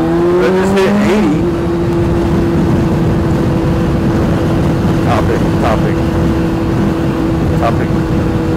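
A motorcycle cruising at about 80 mph gives a steady, loud engine drone with heavy wind rush throughout, holding an even pitch after a brief shift early on.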